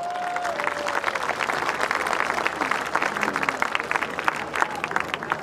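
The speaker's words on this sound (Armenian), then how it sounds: "Եկեք ծափարենք։" An outdoor crowd at a political rally in a square applauding, sustained dense clapping with some cheering, steady and fairly loud throughout.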